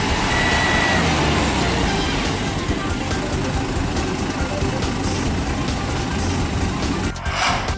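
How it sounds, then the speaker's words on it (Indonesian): A truck loaded with tapioca, stuck in mud on a badly damaged road, keeps up a loud, continuous engine rumble with some beeping, and muffled voices are heard over it. "Truk terperosok ke dalam lumpur di jalan rusak parah."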